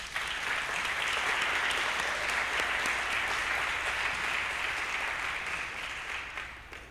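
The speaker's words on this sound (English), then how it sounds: "Can we have another round of applause?" An audience applauds after an evening of musical performances, a dense, steady wash of clapping that stays loud and even for several seconds before easing slightly toward the end, with no voices on top.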